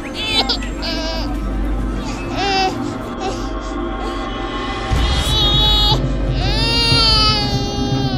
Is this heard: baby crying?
yes